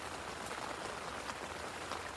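Steady rain falls outdoors on a club lake in Hertfordshire during a carp fishing session, a dense, even hiss of drops with no voices.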